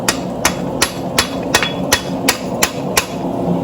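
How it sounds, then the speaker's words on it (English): A steel chisel used as a drift is struck by a blacksmith's hammer in a steady rhythm of about nine sharp, ringing blows, close and loud. "and I'm going to hammer it against here"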